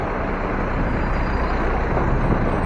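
Steady city street traffic rumbles through Midtown, a dense, continuous wash of car and vehicle noise heard from an electric scooter, with no clear individual events standing out.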